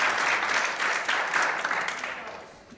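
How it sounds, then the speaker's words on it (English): An audience applauds steadily at a charity running event, a dense wash of clapping that holds loud for most of the moment and then tapers slightly toward the end, with no voices over it. "So I want to applaud her and her colleagues"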